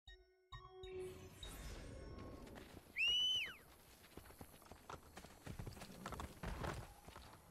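In Assassin's Creed: Brotherhood, horse hooves clip-clop in a steady walking rhythm, close by, with a sharp high whinny-like cry breaking through midway and game ambience beneath.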